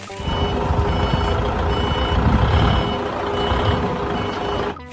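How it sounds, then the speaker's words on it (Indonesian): A toy forklift gives a steady run of loud, evenly spaced reversing beeps over a constant rumbling motor, close by and alone, cutting off abruptly at the end. "Ini mobil forklift."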